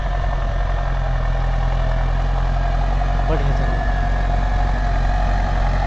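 Deutz-Fahr Agrolux 80 HP tractor pulling a 13-tine cultivator through a field in Punjab, a steady low engine drone with continuous rumble and vibration held throughout.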